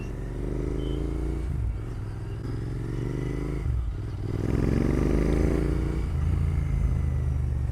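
Royal Enfield Interceptor 650 twin engine idling and revving, a throaty motorcycle note rising and falling through several throttle blips, close and loud with a steady low rumble between.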